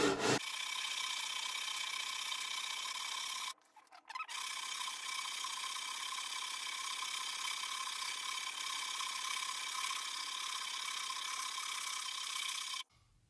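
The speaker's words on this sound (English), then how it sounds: "So trying to get it to where I can sand off those black spots" Guitar frets being sanded level with an abrasive leveling tool to cure a buzzing fret, giving a steady, close rasping scrape that runs continuously apart from one brief pause early on, with no talking.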